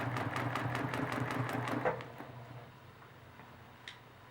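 A sewing machine stitches a quilt along a seam line in a quick, steady run of stitches for about two seconds, then stops and leaves near silence.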